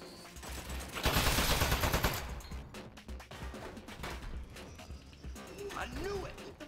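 Turret gunfire in the video game Aperture Desk Job, a loud burst of rapid shots peaking near the start, followed by scattered pops and clatter under ongoing game sounds.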